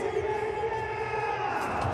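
Large cricket stadium crowd after a Champions Trophy final, a dense continuous roar of cheering and shouting, fairly loud and steady throughout.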